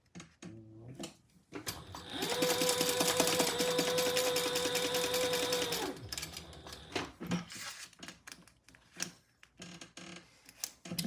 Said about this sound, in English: now I am going to top stitch this closed